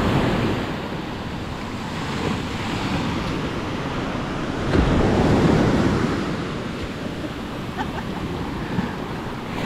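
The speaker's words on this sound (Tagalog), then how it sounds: "Malakas yung alon." Strong sea waves break on a beach in a continuous loud roar of surf with wind buffeting the microphone, swelling briefly midway.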